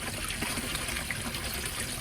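Water from a backyard pond filter flows and trickles in a steady, continuous splashing rush in a cold winter setting, heard alone without talk.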